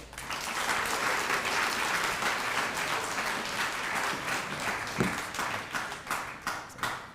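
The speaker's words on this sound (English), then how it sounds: "Please give another round of applause for Dr." Audience applause for Dr. Bazell at a multicultural graduation celebration, a dense sustained wash of clapping from a large crowd that holds steady, then thins into scattered claps toward the end.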